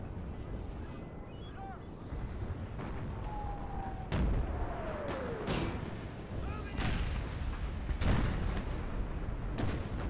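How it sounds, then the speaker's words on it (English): Artillery fire in the strategy game Napoleon Total War, Gettysburg American Civil War mod, with several distant booming cannon shots spaced irregularly over a dense background of battle noise. "Now, artillery is starting to soften up this position, so I am falling back."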